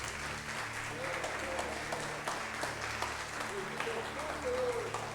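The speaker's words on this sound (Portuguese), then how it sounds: "Pode aplaudir o Senhor." A church congregation applauds steadily at moderate distance, a continuous wash of clapping with faint voices and a low hum beneath it.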